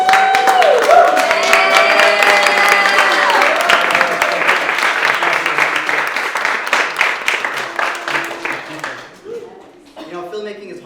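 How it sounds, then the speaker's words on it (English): Festival audience applauding finalist filmmakers, with dense, steady clapping from a crowd that fills the room and slowly thins out while voices and a speaker continue over it. "Let's give a round of applause for the first filmmakers."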